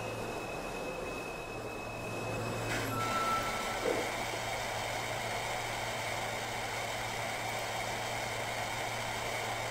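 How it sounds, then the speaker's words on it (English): Simulated New York City subway C train running between stations in Trainz Simulator 2012, a steady rumbling drone with rail hiss that swells briefly and then settles, with no talking. "This is a Manhattan bound C train."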